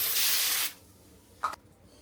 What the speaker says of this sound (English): I'll probably spray some cooking spray on the foil just so nothing sticks.